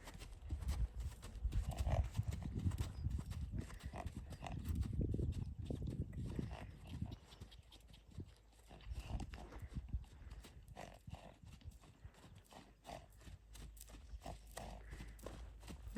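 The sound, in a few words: horse snorting and hooves clopping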